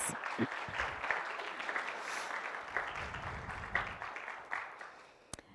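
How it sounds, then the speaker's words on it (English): Steady applause from an audience at a guide dog school graduation ceremony fills the space for several seconds, a dense even patter with a few louder claps and faint voices underneath, easing slightly toward the end. "Let's give them a round of applause, please."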